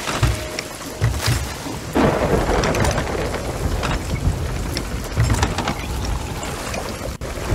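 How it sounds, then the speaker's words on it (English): Heavy thunderstorm at sea in the Sea of Thieves game, steady loud rain pouring on surfaces with repeated rumbling thunder cracks and faint boat creaks, no voices. "Well, now we're in the right proper storm"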